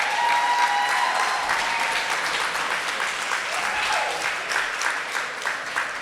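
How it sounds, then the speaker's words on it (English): Audience applause at a diversity celebration event, a sustained even wash of clapping from a sizable crowd lasting several seconds, fairly loud and without talk. "Can we give them another round of applause, please?"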